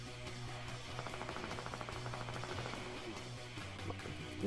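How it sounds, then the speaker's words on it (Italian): Distant gunfire in the video game Fortnite, a quiet rapid burst of shots rattling in the middle of the stretch over a steady low game hum. "Io sento che sparano, però non capisco qua, dove."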